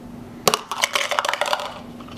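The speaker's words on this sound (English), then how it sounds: "dice being rolled" Several small dice rattle and clatter across a dice tray during a British strategic bombing turn in a board wargame, a close, bright burst of tumbling clicks that settles within about a second.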